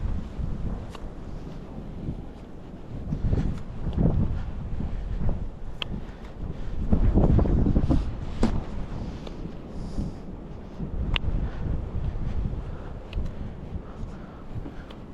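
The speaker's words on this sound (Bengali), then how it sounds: "শুধু শোঁ শোঁ করে হাওয়া বইছে" Steady wind rushing across an empty mountain trail between Bhojkharak and Kedarkharak, a continuous low roar with gusts buffeting the microphone, swelling louder in the middle and never dropping out, with no voices.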